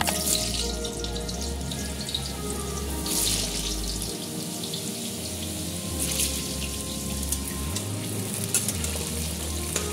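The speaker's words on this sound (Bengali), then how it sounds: "আলুগুলো আগে ভেজে ভেজে তুলে নেব।" New potatoes fry in white oil in a wok, giving a dense, continuous sizzle close by with occasional stirring scrapes and no talking.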